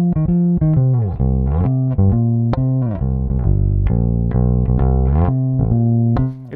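A passive Sandberg California bass played on the front pickup at full with the rear pickup off and the tone knob at half, giving a warm sixties tone; a clear, close run of plucked notes with no talk.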